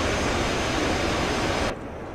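A Su-25T jet in DCS World gives off a steady, loud, broadband engine roar that suddenly drops to a quieter, duller hum near the end, with no voices.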